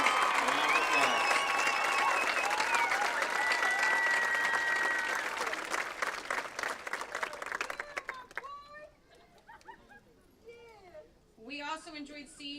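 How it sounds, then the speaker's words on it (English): A high school graduation crowd in New Jersey gives loud, sustained applause for student athletes, the clapping fading after about eight seconds into scattered claps, murmurs and children's voices. "Let's give all of our student athletes a round of applause."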